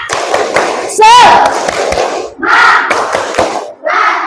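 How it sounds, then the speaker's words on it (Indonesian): A group of children clap and shout a rhythmic spirit chant in a classroom, bursts of voices and hand claps alternating in quick patterns, loud and close. "Kita tes semangat dengan tepuk semangat."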